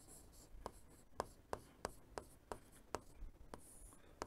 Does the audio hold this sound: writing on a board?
yes